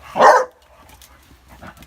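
A Chow Chow dog gives one loud, close bark near the start, followed by faint yips and stirring, with no talk over it.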